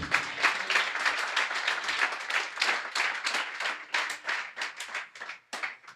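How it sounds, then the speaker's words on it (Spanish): Steady applause from a church congregation during a sermon, dense clapping that continues throughout and thins slightly toward the end. "Le damos un fuerte aplauso a la Biblia"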